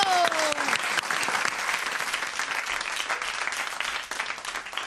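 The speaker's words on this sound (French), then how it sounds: "on peut les applaudir, c'est bien" Studio audience at a French radio broadcast claps for musicians in a steady, dense round of applause that fills the whole stretch, with a brief voice at the very start.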